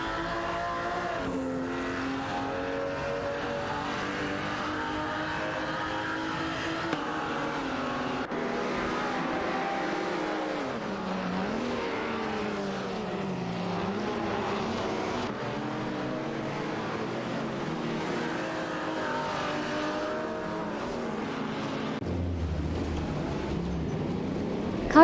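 Race car engines in an AI racing video game, continuous droning and rising, falling engine tones of several cars at once, with shifting pitch sweeps as they accelerate and pass, steady and unbroken.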